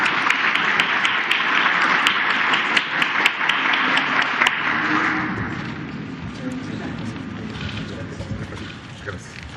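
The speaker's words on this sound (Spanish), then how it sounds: "Un aplauso." Audience applause at a Mexican presidential morning press conference, a dense wash of clapping that holds strong for about five seconds, then thins and fades into room murmur and voices.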